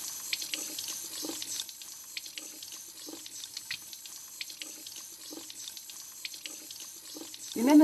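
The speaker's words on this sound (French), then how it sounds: "Tu rinces bien." A baby bottle is rinsed under a running kitchen tap, a soft steady hiss of flowing water broken by repeated splashy swishes as the bottle is turned, ending in a louder gush.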